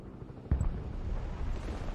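A sudden deep explosion from a bombing run in the Broken Arrow strategy game booms once, then rumbles on in a low, lingering roll with faint battle noise behind it.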